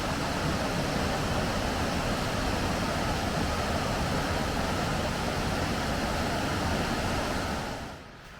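A Queensland waterfall gives a broad, constant roar of pouring water, loud and steady, easing slightly right at the end.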